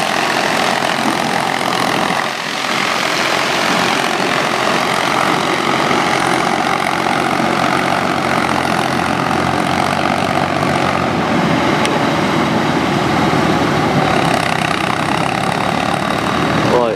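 A Ford 4600 tractor engine drones steadily and loudly while working a muddy rice field, a continuous close rumble with no pauses.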